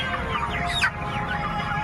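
Broiler chickens on a poultry farm cluck steadily in a dense, continuous flock chorus, with one louder squawk rising briefly near the middle.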